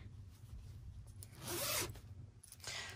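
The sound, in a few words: zipper on fabric pouch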